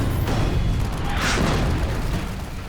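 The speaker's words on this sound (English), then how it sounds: "unleashing a devastating explosion inside" A Panzerfaust anti-tank weapon explosion in a World War II tank battle setting, heard as a loud, sustained boom with a rushing burst partway through over dense rumbling noise.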